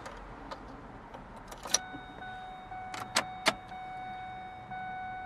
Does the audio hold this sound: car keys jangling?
yes